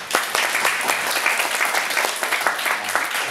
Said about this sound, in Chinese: 我们热烈掌声欢迎他啊